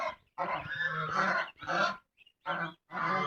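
Chinese geese with their goslings honking in loud, close bursts, several separate calls broken by short pauses.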